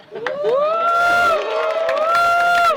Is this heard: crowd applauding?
yes